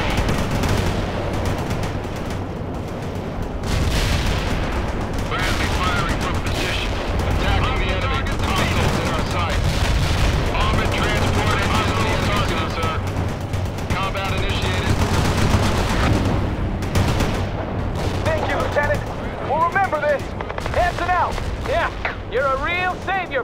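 Suppressing gunfire in the video game World in Conflict: bursts of machine-gun and rifle fire crackle continuously at mid distance, mixed with booms and radio-style voices talking over the battle.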